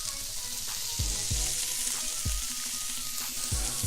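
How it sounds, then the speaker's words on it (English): Meat searing in an oiled pan for a quinoa bowl, a loud continuous sizzle up close with a few soft thumps and stirring bumps spaced through it, no talking. "So now that the meat is searing properly"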